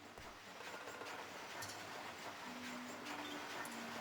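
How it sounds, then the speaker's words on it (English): Train rumbling and clattering through a level of the video game Monster Rancher Evo, a steady broadband roar with a sustained whine appearing partway through, continuous and fairly loud throughout. "Oh shit, the train."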